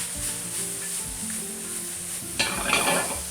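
Sliced food sizzles and caramelizes in a stainless steel pan, giving a steady, close frying hiss, followed near the end by a sharper scrape and clatter as it is stirred.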